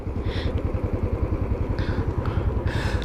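A Royal Enfield Classic 500 single-cylinder motorcycle engine running with a steady, rapid low thump, loud and close, with faint higher hiss flaring briefly a few times.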